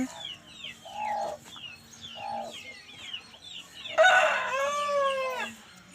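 A rooster crows loudly and close at a breeder's yard among short-nose long-tail hens, one long drawn-out crow following a few shorter clucking calls from nearby fowl.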